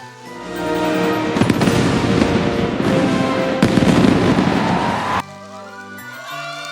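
A fireworks display crackles and bursts loudly and densely for about five seconds over sustained musical tones, then cuts off abruptly, leaving only fading tones.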